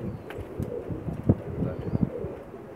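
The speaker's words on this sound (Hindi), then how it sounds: "टैडी कबूतर है और शर्मीली मादा है" Soft, low cooing of a pair of Pakistani Teddy pigeons in short repeated phrases, fairly close, over a faint outdoor background.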